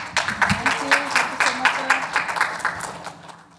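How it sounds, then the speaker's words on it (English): A panel discussion audience gives a round of applause for the presenters, individual claps pulsing rhythmically and loud, while a voice speaks over the clapping. "a bigger round of applause for our amazing presenters"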